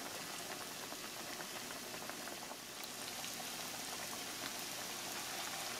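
Corn dogs coated in Hot Cheetos fry in hot oil with a loud, steady, dense bubbling sizzle that fills the whole stretch without letup and with no voices.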